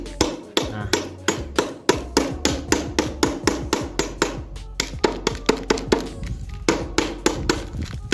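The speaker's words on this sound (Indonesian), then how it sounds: "Kita geprek menggunakan pisau saja seperti ini." Aromatic ingredients are smashed with the flat of a kitchen knife on a cutting board, about twenty sharp, close knocks in a steady rhythm.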